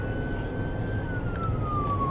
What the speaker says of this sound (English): which is lights and sirens, going we call it code 3